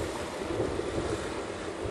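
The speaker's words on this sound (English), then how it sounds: "You don't really see water break on the rocks like that" Heavy surf breaking against rocks while a strong offshore wind blows, a steady, loud roar of wash and wind noise with no gaps and no voices.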